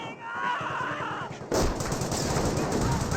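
Sustained gunfire in a Company of Heroes battle, with a German Grenadier squad under fire: dense crackling shots that get louder and busier halfway through and carry on without a break.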